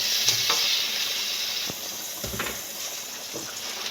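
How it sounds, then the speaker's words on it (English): Crab meat dropped into a gumbo pot with sausage, giving a steady sizzle and frying hiss with a few stirring clatters and splashes, close and continuous with no talk. "In with my crab meat."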